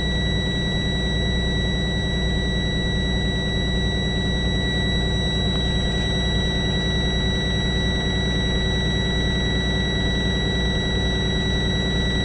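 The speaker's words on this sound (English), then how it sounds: "Took a while for that buzzer to go out." A steady, piercing buzzer drones without pause on a 2024 Freightliner S2C truck during an air brake test, sitting over a low rumbling engine idle the whole time.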